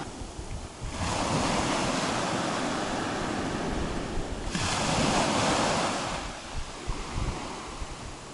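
Sea waves roll onto a sandy beach at Lara, Antalya, Turkey: two long, loud surges of surf wash in and recede, with gusty wind buffeting the microphone and no voices.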